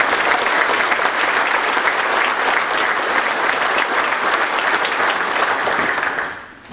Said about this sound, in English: another round of applause for our quintet and our color guard